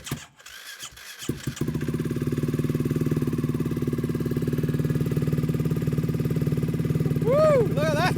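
A Ducati Hypermotard 698 single-cylinder motorcycle cranks briefly, then fires into a first cold start-up and settles into a steady, loud, close idle with a rapid even pulse, with a voice near the end.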